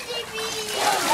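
Water sloshes and splashes in a backyard pool during a pool fight, a short steady splashing burst with a voice talking over it.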